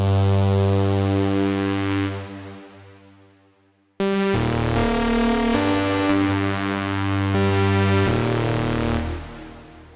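Two sustained notes of a sync lead synthesizer patch washed in reverb and wide chorus, bright harmonic layers and a buzzy distorted edge; the first tone decays, then a loud second phrase of held notes shifts pitch a few times and fades.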